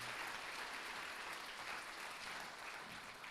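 Steady, fairly quiet applause from a church congregation, an even wash of many hands clapping with no break over a few seconds.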